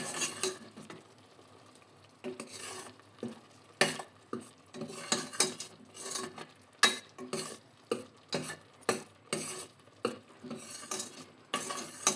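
Steady rhythmic scraping and clinking of a spatula stirring a tomato mixture frying in a pan, with a soft sizzle underneath, close by and no talking.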